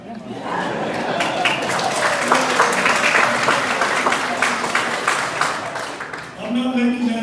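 A crowd at a rally claps in a loud, continuous wash with cheering mixed in, lasting several seconds before a voice briefly rises over the tail.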